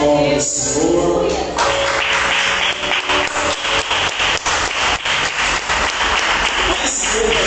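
A church congregation applauds the name of the Lord with loud, steady, rhythmic clapping that fills the room, continuing without a break under a faint voice.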